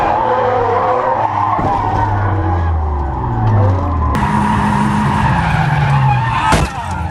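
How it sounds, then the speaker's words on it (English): Loud tire skidding from a Volvo drift car as it crashes, with engine roar and long squealing slides running throughout and a sharp impact partway through. "here's the clip of the crash"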